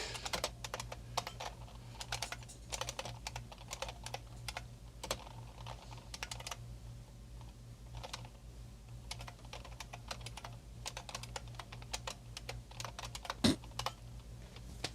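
Typing on an IBM PS/2 computer keyboard, a steady run of close, crisp key clicks with irregular rhythm and occasional pauses, over a faint background hum.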